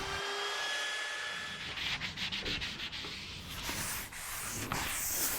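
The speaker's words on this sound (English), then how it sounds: "I'm just in the middle of doing the final sanding for these first 2 boards" Steady gritty rubbing of sandpaper on wood, continuous and close, with a power sander's whine and brief changes in pressure.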